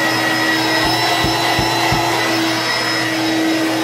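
An Electrolux Discovery 2 upright vacuum cleaner runs with a loud, steady motor whine and airflow roar, broken by a few soft low thumps near the middle.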